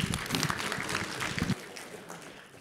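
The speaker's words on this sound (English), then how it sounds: "Let's give them a hand clap for their comments." Church audience applauds in a short, fairly faint burst of clapping with some voices mixed in, fading out after about a second and a half.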